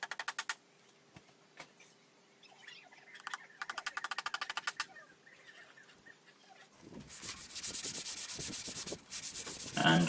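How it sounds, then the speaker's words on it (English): Hand sanding of an old wooden bird table being restored: bursts of rapid back-and-forth scratchy rubbing, intermittent at first, then louder, longer and steadier strokes close by. "just once again giving it a sanding ready for the final application to go on there"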